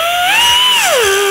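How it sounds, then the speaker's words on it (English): An air-powered cutting tool whines steadily, its pitch rising and then dropping as it bites into a rusted bracket on an E55 AMG wagon, loud and close with no talk. "we gotta cut this bracket out"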